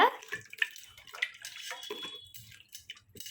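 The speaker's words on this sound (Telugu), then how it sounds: "ఇట్లా తీసి పెట్టుకున్న వెన్నని మనం ఒక్కసారి అయితే కడుక్కోవాలన్నమాట" Homemade butter for ghee is rinsed in water, giving soft splashes, drips and sloshing with brief knocks, quiet and close.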